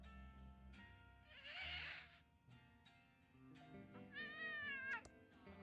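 A cartoonish cat meowing on a TV show inside the video game Thimbleweed Park, several drawn-out whiny meows over a low hum of background music, clear and close.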